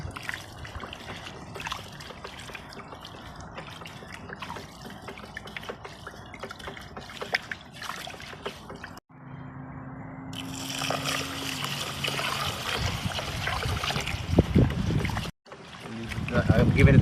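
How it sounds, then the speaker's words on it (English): Rice is rinsed in a pot of water, with steady sloshing and trickling that pauses briefly partway through and again near the end. "I'm giving it another wash."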